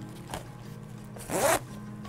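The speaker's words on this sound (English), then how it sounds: "zip it up" A zipper on a dog backpack is pulled closed in one quick, close stroke, with a brief soft rasp before it and a low room hum underneath.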